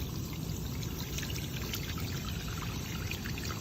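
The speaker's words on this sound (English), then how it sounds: "now I'm just going to rinse it and see what it does" Running water pours and splashes steadily over dyed fabric being rinsed, a constant, fairly soft gush with no voices.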